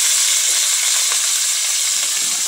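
Carrots and ginger frying in a pan give a loud, steady sizzle with a constant bright hiss and faint crackles, continuous throughout and with no talk.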